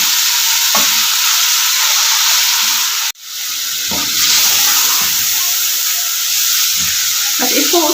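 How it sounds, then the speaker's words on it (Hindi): Chicken mince frying with garlic, onion and ginger in a hot pan, a steady loud sizzle with scraping stir strokes throughout, a brief break near the middle before the hiss resumes. "लहसुन, प्याज और अदरक के साथ आपने कीमे को ऐसे फ्राई करना है।"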